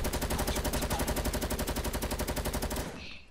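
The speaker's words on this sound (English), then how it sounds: "He shoots, they're shooting at him." Automatic gunfire in Fortnite rattles in a fast, steady stream of shots, loud and close for nearly three seconds before cutting off abruptly into quiet, with no talking.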